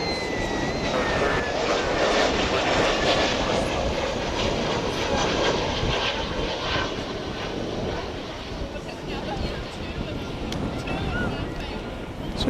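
A Finnair airliner departing a DFW airport runway roars as a broad, steady jet rumble with wind buffeting the microphone, loud and sustained before easing slightly toward the end.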